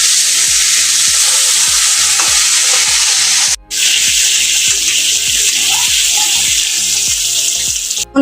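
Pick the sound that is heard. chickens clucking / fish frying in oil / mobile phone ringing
fish frying in oil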